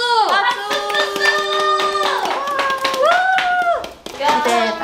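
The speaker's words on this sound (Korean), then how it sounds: "박수!" Members of a K-pop girl group clap their hands rhythmically while talking and shouting excitedly together in a close, lively behind-the-scenes moment, bright voices sounding over and under the steady clapping.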